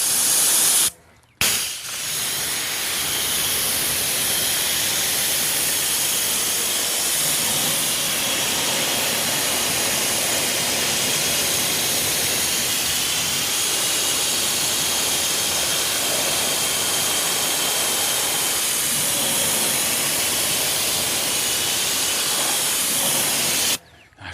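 Steady loud hiss of a pressure spray washer rinsing a BMW E92 M3, a continuous broadband rush that runs almost unbroken, with only a brief cut near the start and no talk.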